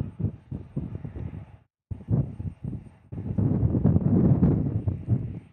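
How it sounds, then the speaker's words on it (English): Gusty wind at Tucson International Airport on a sunny, blustery day buffets the microphone in uneven rumbling bursts, with a brief dropout, then a stronger, sustained gust toward the end. "It is a sunny and nice day here in Tucson, just windy."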